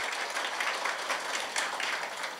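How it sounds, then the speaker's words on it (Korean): A short burst of dense, continuous audience clapping at an expanded staff meeting of district officials in Korea, greeting an arriving guest, with no speech over it. "큰 박수로 맞이해 주시기 바랍니다."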